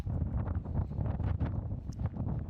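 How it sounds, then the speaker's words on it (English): Strong wind buffets the microphone outdoors at the Very Large Array radio telescope, a loud continuous low rumble with gusty swells throughout. "It's so windy out here"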